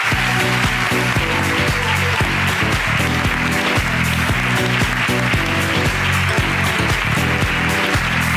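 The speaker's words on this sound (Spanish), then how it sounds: "Aplauso para la ruina de Sandra." A live comedy podcast audience applauds with dense, continuous, loud clapping that fills the room, with some musical tones underneath.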